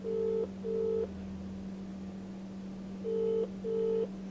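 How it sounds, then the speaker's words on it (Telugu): Telephone keypad dialing: two short beeps, a pause of about two seconds, then two more beeps in the same pattern, all over a steady low hum, with no voices. "ఫోన్ ఆన్సర్ చేయట్లేదు."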